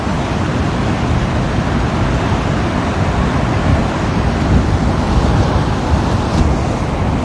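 Ocean surf and wind at Waikiki, Hawaii form a steady, dense roar that runs without break, with slight swells of louder wash near the end and no voices.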